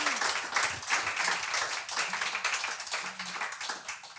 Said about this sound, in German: Vielleicht können wir erstmal klatschen.